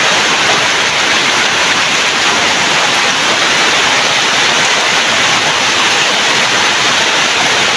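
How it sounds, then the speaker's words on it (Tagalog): Rainwater pours continuously during Typhoon Kristine in Bosoboso, Antipolo, making a dense, unbroken roaring rush, loud and steady throughout. "tuloy-tuloy ang daloy ng tubig"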